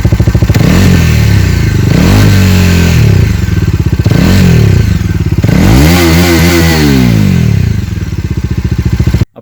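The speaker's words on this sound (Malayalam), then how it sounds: "വളരെ ഷാർപ്പായിട്ടുള്ളൊരു സൗണ്ടാണ്, വളരെ അഗ്രസീവായി സ്പോർട്ടി ആയിട്ടൊരു സൗണ്ടാണ് ഇതിൻ്റെ സൈലൻസറിലുള്ളത്." A Bajaj Dominar 250 motorcycle, BS6 version, revs repeatedly through its exhaust, several loud sharp throttle blips rising and falling over a steady idle, close by and alone until the engine cuts off at the end.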